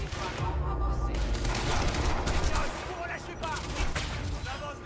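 Rapid gunfire from the video game Quantum Break rattles in dense, sustained bursts, loud and continuous for several seconds with heavy low-end thumps.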